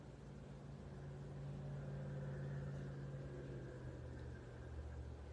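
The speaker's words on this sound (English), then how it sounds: "For me, it's the traffic outside" Steady low rumble of road traffic drifting in from outside a quiet room, a continuous engine hum that swells slightly midway and holds at a moderate, distant level with no voices.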